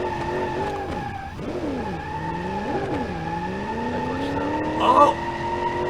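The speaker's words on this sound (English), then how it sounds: "I think this is the only car that can do a burnout outside of 3rd gear in the fleet right now" Car tire burnout in sixth gear in the BeamNG.Drive driving game: a steady, loud engine drone with rising and falling pitch sweeps under continuous tire squeal, and a louder screech bursts near the end.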